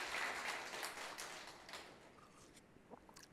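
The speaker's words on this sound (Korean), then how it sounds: "뜨겁게 박수를 한번" A church congregation claps during a Sunday afternoon worship service, a dense, distant spread of applause that is strongest at first, then thins and fades to a few scattered claps.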